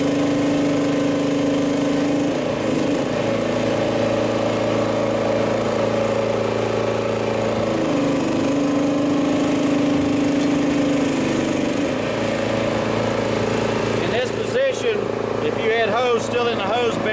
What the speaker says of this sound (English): Dean, if you'll go ahead and start the engine